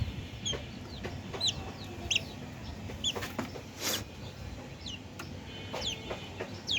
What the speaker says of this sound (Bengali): এখন দিচ্ছি সোনালি মুরগির বাচ্চা